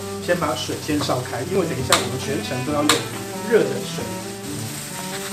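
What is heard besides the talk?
taro sizzling while deep-frying in oil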